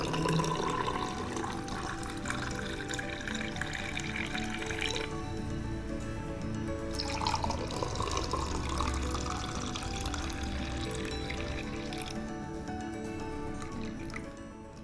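Mint lemon juice poured into a glass gives a continuous close trickling and splashing of liquid, with the pitch and gurgle shifting as the glass fills, steady throughout.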